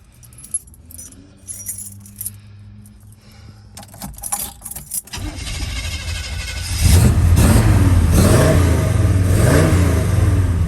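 Keys jingle and a starter cranks before the V8 of a 1970 Chevrolet Malibu catches and roars into loud, deep revving that holds steady near the end.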